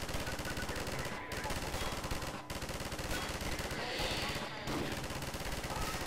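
Mounted turret machine gun firing continuously in Half-Life 2, a loud dense rattle of rapid shots filling the scene with only brief breaks, mixed with game noise.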